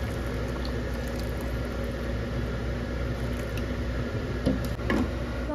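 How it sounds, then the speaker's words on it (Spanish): Rice simmers in water in a pot after being browned, a low steady bubbling hiss with faint irregular ticks and small pops, close and continuous without speech. "Vamos a dejar que se haga el arrocito"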